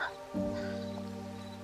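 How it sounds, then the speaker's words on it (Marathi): Light rain falls around a lodging in Ladakh-bound Srinagar on a rainy morning, a soft, steady patter with a constant low hum running underneath throughout. "पाऊस आला ऑल दो बारीक आहे अजून"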